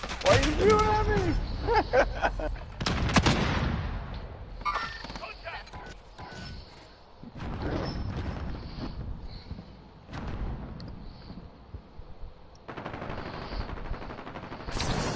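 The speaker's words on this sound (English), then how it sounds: "Why are you shooting at me?" Gunfire in a PS4 video game comes as loud bursts of rapid shots, heaviest at the start, followed by scattered shots under ongoing talk and game noise.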